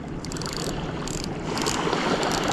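A fishing reel is checked with a suspected broken spring, giving a rapid, close, mechanical clicking of the ratchet in uneven bursts over a steady background wash, with no talk.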